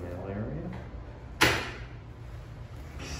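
A locked door in an apartment building opens with a single sharp latch click and clunk partway through, set against a low steady hum of the hallway, with a voice speaking faintly before it.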